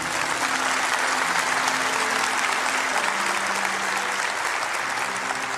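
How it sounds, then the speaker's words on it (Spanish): A church congregation claps loudly and continuously throughout, a thick wash of hands with faint sustained tones from the worship setting underneath. "Denles aplauso fuerte a esa gente"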